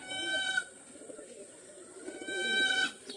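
Pigeons coo in soft repeated phrases, close and fairly quiet, with no voices.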